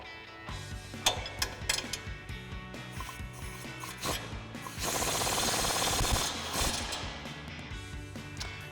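Impact wrench with a 19mm socket, backed by a 19mm wrench, tightening the bottom mounting bolt of a Rough Country 3.5-inch suspension lift on a Tacoma. A few short metallic clicks and rattles lead into a sustained, buzzing hammer burst of about two seconds.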